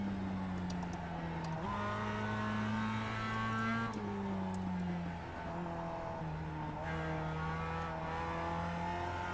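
Mazda MX-5 Cup race car in a racing video game, its engine holding a steady, loud drone with pitch rising and dropping through gear changes, continuous and close with no voices.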